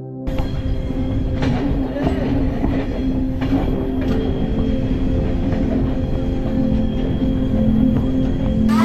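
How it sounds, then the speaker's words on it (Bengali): A passenger train near Dankuni, heard from inside a carriage, gives a loud steady rumble of wheels on rails with occasional clacks and rattles throughout. "আমাদের ট্রেন ছেড়ে দিয়েছে, আমরা এখন মোটামুটি ডানকুনি ক্রস করছি।"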